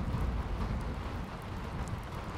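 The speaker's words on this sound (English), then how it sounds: "the raining outside and it falling on the roofs is great in True Storms" Soft, steady rain falling outside onto roofs in modded Skyrim with the True Storms weather mod, a faint continuous patter with low rumble beneath, no voices.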